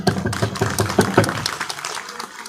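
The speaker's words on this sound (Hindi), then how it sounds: "जो ताली बजा रहे हैं वो थोड़ा सोच समझ के बजाएं।" A crowd at a Buddhist festival gathering in Greater Noida claps in a brief, uneven burst of applause that fades out after about a second and a half, leaving near quiet.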